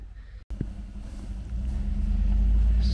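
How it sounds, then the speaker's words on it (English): A Honda CR-V SUV climbs a dirt hill off-road, its engine rumbling low and growing steadily louder as it strains, after a brief cut in the sound near the start. "can the CRV get over this hill?"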